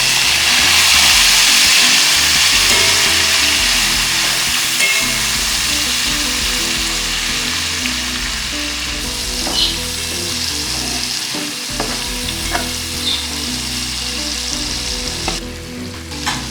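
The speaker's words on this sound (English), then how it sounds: "Now we will add our tomatoes and cook them as well." Tomatoes frying in a pan for spicy mustard-greens curry (sarson ka saag), a steady loud close sizzle that runs throughout, with occasional light stirring clicks and scrapes.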